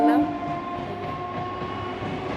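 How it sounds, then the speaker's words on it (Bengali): A train passes nearby, heard from a rooftop as a steady rumbling roar with a brief horn-like tonal blast at the start, fairly loud and continuous. "ট্রেন যাচ্ছে, দেখতে পাচ্ছ? দেখতে পাচ্ছ? ওই দেখো ট্রেন যাচ্ছে।"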